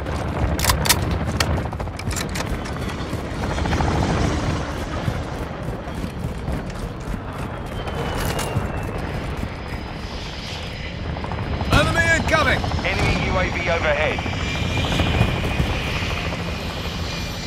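A hostile VTOL aircraft approaches in Call of Duty MW2 with a steady engine roar beneath scattered gunfire and explosions, swelling louder midway, while voices speak over the battle.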